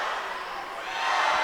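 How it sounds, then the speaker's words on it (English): Loud crowd cheering and shouting at a Tufts versus MIT college swimming and diving meet in an indoor pool, a steady roar of voices that swells louder toward the end. "As you can hear how loud this Tufts crowd is getting"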